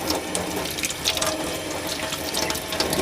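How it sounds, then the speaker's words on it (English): Steady broadband rush of warm tap water running over jewelry as it is rinsed clean of dish soap, continuous and fairly close, with faint metallic clinks underneath. "You just soap this up and you rinse it off with some warm water"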